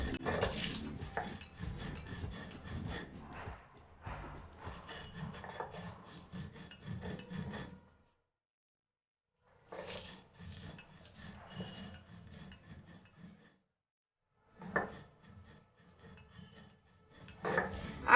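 Fried chilies and shrimp heads being ground with salt on a stone slab (pata), a rough rasping scrape in repeated strokes, close and clear, in three bursts separated by short pauses.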